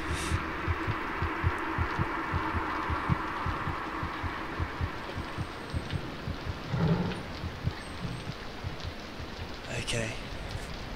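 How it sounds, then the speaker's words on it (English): A steady, low heartbeat thuds in the horror video game Among the Sleep, repeating evenly throughout under a wash of rain, with a brief rumble midway and someone speaking over it at times. "That's my heart beating now."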